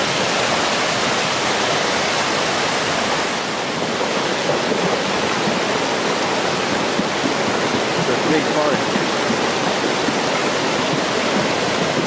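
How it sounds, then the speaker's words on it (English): Flash-flood water rushing through swollen streams and rivers, a loud, dense, unbroken roar of torrential flow that carries on without pause, close and powerful throughout. "Streams and rivers swelled with incredible force, carving away their banks, toppling trees, and sweeping away anything in their path"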